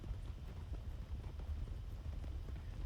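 A horse galloping at full tilt in a Wild West video game, hooves beating in a fast, steady clip-clop rhythm over a low rumble, close and unbroken throughout.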